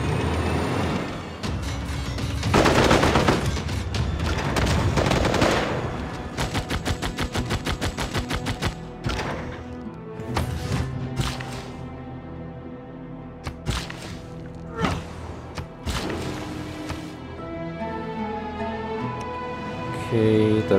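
Tank attack in Civilization 6 with rapid machine-gun rattles and heavy cannon blasts, loud bursts packed close together at first, then thinning into scattered sharp shots and mechanical clatter.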